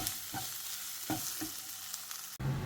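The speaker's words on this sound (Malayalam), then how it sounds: "എന്നിട്ട് വീണ്ടും ഇതിൻ്റെ പച്ചമണം മാറുന്നത് വരെ ഒന്ന് വഴറ്റി കൊടുക്കുക" Paneer butter masala base with garam masala sautéing in a pan, a steady crackling sizzle with soft stirring scrapes at intervals, close and fairly quiet, ending in a brief pause.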